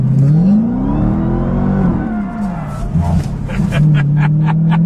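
A 2015 Dodge Challenger Hellcat's supercharged engine revs hard while the car drifts, its loud droning note climbing and falling in pitch, with tire and wind noise building toward the end, heard close from inside the car.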